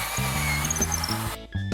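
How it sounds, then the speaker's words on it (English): A power drill bores pocket holes in wood, whirring in several short bursts of rising and falling pitch, close and loud with brief pauses between runs. "Keep drilling pocket holes following the layout in our free online plans."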